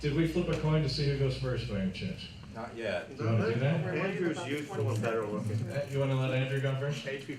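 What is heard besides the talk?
No everyday noise stands out behind the speech.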